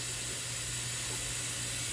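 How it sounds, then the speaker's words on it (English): A tomato-based stew with yam simmering in a pot on fairly high heat gives a steady, close, broadband hiss and bubbling sizzle, unbroken for the whole moment, no talking. "Let that simmer"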